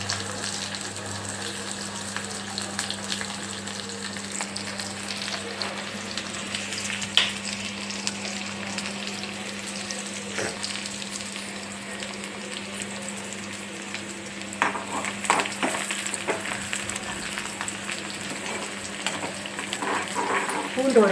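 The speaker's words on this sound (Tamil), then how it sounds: "இந்த பூண்டு கொஞ்சம் நல்லா வதங்கட்டும்" Garlic sautéing steadily in hot oil with mustard and fenugreek seeds, a continuous close sizzle with occasional crackles and pops throughout.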